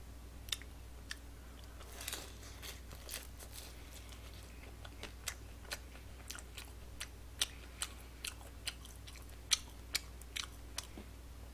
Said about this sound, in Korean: 만두부터 먹어볼까?